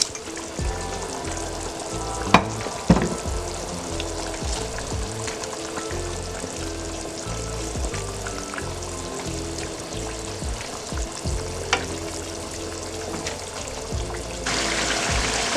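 Fried small koi fish go into a thin black-cumin curry jhol, a steady bubbling sizzle throughout with a couple of sharp clatters near the start and stirring, no talk.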